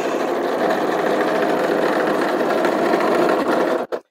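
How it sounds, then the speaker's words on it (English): A sewing machine runs steadily for about four seconds, stitching narrow seams on a child's pajama pants, then stops abruptly at the end; close and alone, with no talk. "we're sewing these at half an inch or a quarter of an inch"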